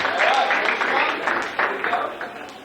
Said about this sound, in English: Let's give them one more clap to get them pumped up.